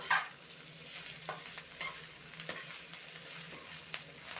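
Lettuce (romaine) saag being stirred in a pan while it cooks, a soft scraping of spoon against pan with a few sharper clicks over a low steady sizzle, fairly quiet and without talk.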